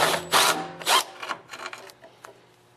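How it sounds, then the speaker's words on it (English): A ratcheting socket on a U-joint works a 3/8 bolt under the fuel tank of a Briggs & Stratton 4-5HP engine, giving several short, close bursts of clicking and grinding that fade into lighter scrapes. "I'm going to remove a 3/8 bolt that's right underneath the fuel tank"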